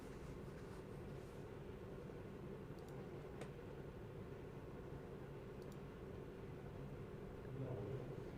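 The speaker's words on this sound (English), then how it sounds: "You can hear the cars idling away there on the grid." Faint, distant, continuous low rumble of about 40 F3 race cars idling on the starting grid at Long Beach, steady throughout with no talk.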